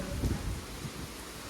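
Heavy rain with a thunderstorm on a road in Uttarakhand, a steady wash of rainfall over a low, rolling rumble that swells early and settles, fairly faint and continuous with no voices.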